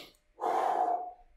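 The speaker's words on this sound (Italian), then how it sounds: "butto fuori l'aria e rientro, e butto fuori l'aria" A single forceful exhale pushed out through the mouth during an abdominal core exercise, a breathy rush lasting about three quarters of a second, close and fairly loud, with no talking over it.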